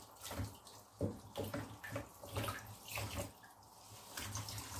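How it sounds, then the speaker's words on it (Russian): Fresh greens being rinsed under a running tap, a steady splashing stream of water with uneven surges as the leaves are moved through it, fairly quiet and close, with no talking. "зелень надо смывать очень хорошо"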